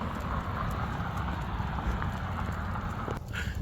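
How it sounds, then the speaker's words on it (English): Light rain patters steadily, a soft continuous hiss with irregular drops close by and a brief louder tap near the end, with no talking. "It's raining a bit."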